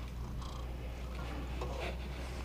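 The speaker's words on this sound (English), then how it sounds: "Hi, Kitty" A cat purrs softly and steadily at close range in a quiet workshop beside a 1968 John Deere 3020 tractor during a 12-volt conversion, a low continuous rumble with no talking.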